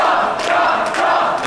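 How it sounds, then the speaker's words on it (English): At an indie wrestling show, a crowd chants for a wrestler, a dense roar of many voices with rhythmic swells throughout, loud and close. "Chant for Matt Cross, on the other hand, seems to be working perfectly"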